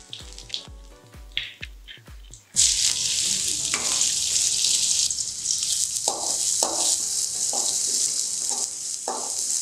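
Curry leaves and onion tipped into a hot oiled pan for beans poriyal, a sudden burst of loud, steady crackling sizzle after a few sharp knocks, continuing with occasional stirring clatters.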